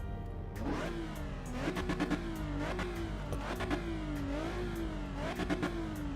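A V6 race car engine in Assetto Corsa EVO revs repeatedly through rising and falling gear pulls, sounding close and moderately loud with clear shift drops between bursts.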